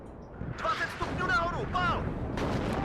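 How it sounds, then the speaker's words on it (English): Artillery fire in the video game WARNO, with deep rumbling blasts and booms rolling under a voice, shells landing in a few heavy bursts amid battle noise. "that artillery is spot on."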